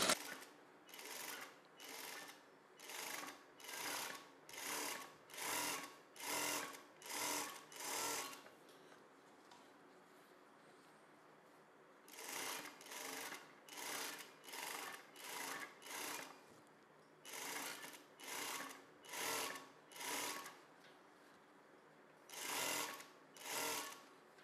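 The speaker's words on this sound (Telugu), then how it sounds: "ఇప్పుడు మనం ఈ నెక్ రౌండ్ని కుట్టడం స్టార్ట్ చేసేసుకోవాలి" A sewing machine stitches a blouse neckline in rapid, whirring bursts of about a second each, with a quieter pause in the middle, heard close and alone without talk.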